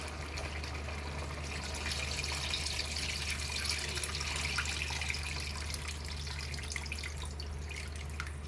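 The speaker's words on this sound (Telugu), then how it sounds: "ఇప్పుడు మనము తీసుకున్న చింతపండు పులుసు పోసేసుకుందాం." Tamarind extract poured into a fish curry cooking with okra, a steady continuous trickling and splashing of liquid that runs the whole time over a low hum, close and fairly loud, with no voices.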